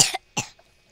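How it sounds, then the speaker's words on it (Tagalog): Two short, sharp human coughs, close and fairly loud, with a brief pause between them and quiet afterward, heard over a Roblox Brookhaven game session. "Ubo nga muna ako dito."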